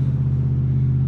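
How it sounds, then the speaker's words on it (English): Loud truck passing close by outdoors, a heavy steady low rumble of engine and road noise filling the whole short moment, with no voices over it. "Loud truck."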